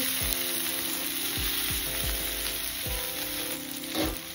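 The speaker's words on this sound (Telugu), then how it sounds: "బాగా వేగనివ్వాలి." Bitter gourd frying in a pan over a medium flame, village style, with a steady close sizzle throughout and a few sharp clinks and scrapes as the pieces are stirred.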